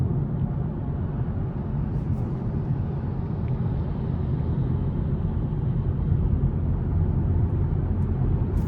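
A 2025 BMW 228 Gran Coupe coasts off the throttle, giving a steady low road-and-drivetrain rumble inside the cabin, even and unbroken throughout.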